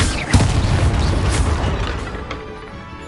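Booming spell impacts and explosions from Hogwarts Legacy gameplay, a heavy burst near the start followed by rumbling crashes and mechanical clatter that gradually fade, loud and dense.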